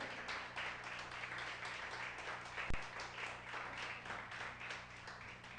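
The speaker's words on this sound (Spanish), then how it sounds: "Dele el aplauso a Dios." Church congregation applauding during a sermon, a sustained wash of many hands clapping at a distance, fairly faint, with a steady low hum behind and one sharp knock midway.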